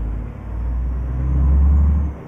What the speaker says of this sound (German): der rappelt schon ein bisschen in der Kiste, der Truck, ne? Er ist schon nicht leise.